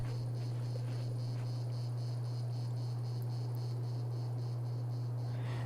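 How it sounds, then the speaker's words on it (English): Insect buzzing and chirping from the video game Alan Wake's American Nightmare, in a desert area: a quiet, steady high trill pulsing in a regular rhythm over a constant low electronic hum, with no voices. "Now I guess that's the sound of like a bug,"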